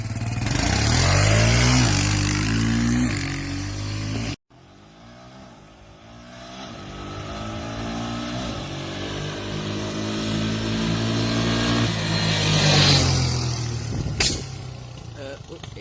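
Motorcycle engine on a race track, loud and close, revving hard with rising and falling pitch, a brief cutout near the middle, then building again through sustained acceleration; wind noise throughout.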